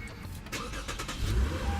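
Push-button start of a 2018 Lexus IS350 F Sport's 3.5-liter V6, a brief crank catching into a smooth idle, heard from inside the car at moderate volume.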